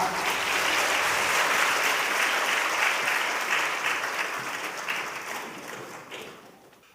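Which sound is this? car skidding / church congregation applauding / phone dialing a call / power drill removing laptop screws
church congregation applauding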